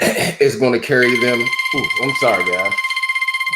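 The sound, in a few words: alarm for the baby's crib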